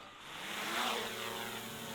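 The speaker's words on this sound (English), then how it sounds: "To get the drone in the air, push, and we're gonna tap to take off" Steady whirring buzz of a DJI Mini 3 Pro drone's propellers spinning up for takeoff, close and fairly loud, swelling briefly then holding a constant drone-motor whine.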